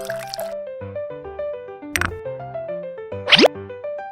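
Water poured into a miniature pot lands as two short, soft splashing drips, close and distinct, set against a steady bed of light background music.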